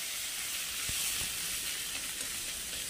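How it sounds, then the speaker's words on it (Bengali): Ginger and cumin paste frying in a little oil in a pan gives a steady, close sizzling hiss with faint stirring taps, and no voices. "এইবার ভালো করে আদা আর জিরেটাকে একটু কষাবো"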